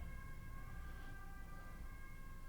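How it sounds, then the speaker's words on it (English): A steady siren wails with a held tone, faint and distant under a broad rumbling noise, with no talk. "I wish that siren were louder."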